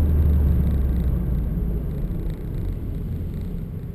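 A supercharged Holden VF Calais pulls away from a standstill, its engine a steady, close low rumble that holds fairly level and loud throughout, with no voices.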